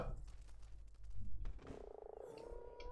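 A frog croaks in Ark Survival Evolved, a low throaty pulsing call mixed into busy game ambience with a brief rising chirp near the end.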